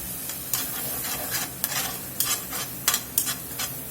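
Flour and red chili sauce for chili colorado cooking together in a pan, with a steady sizzle broken by quick, irregular scrapes and clinks of a utensil stirring against the metal.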